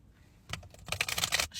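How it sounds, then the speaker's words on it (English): A deck of mini oracle cards is shuffled by hand, a close burst of rapid crisp riffling and flicking clicks after a brief quiet start, with no talking. "shuffle these cards"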